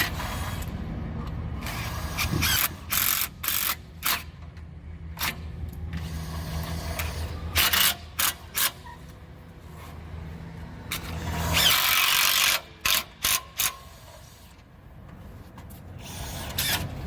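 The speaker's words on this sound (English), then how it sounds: "one more screw to put in" A power drill drives a screw into a storefront window sub sill, with loud repeated short whirring bursts that start and stop, plus a longer sustained run near the end, close by and without talking.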